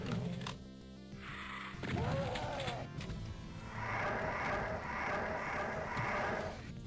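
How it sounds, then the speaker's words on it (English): Distant revenant monsters in Final Doom's Plutonia give off a rough, textured growling that swells and holds for several seconds, mixed with other in-game impacts and noises. "you can hear the Bony Boys in the distance"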